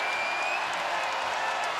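Basketball crowd at a women's college game, Louisville against Notre Dame, applauding and cheering loudly in a steady dense wash of noise right after a tying free throw late in the game.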